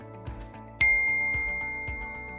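A bright notification ding rings out once over a soft, rhythmic background music bed, its metallic tone sustaining and slowly fading.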